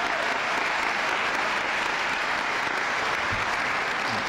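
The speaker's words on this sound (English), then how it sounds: "can we give another round of applause for amazing steel band" Sustained applause from a large audience after a school steel band performance, dense and even throughout, with no voices standing out.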